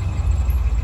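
A 1986 Nissan 300ZX 3.0 that has trouble starting catches and runs for a moment with a low, steady, rough rumble at close range, with no voices.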